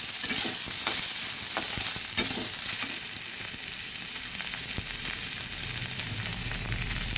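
Soybeans sizzle steadily in hot oil over low heat, a constant crackling hiss broken by occasional sharper pops and scraping stirs.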